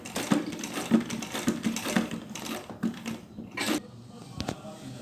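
A sewing machine stitches pleats into a saree in short, rapid bursts of clattering needle strokes, close by and fairly quiet, pausing between runs.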